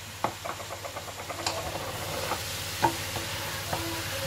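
Ingredients for oven-braised chicken being stirred, with a utensil scraping and knocking against the pot in a steady rhythm over a soft sizzling hiss, close and fairly loud.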